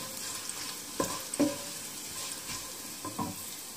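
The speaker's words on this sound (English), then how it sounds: "urad dal, saute this" Urad dal sautéed in a pan for a quick coriander chutney gives a soft, steady sizzle, with a few light scrapes and taps of a stirring spoon near the start and end.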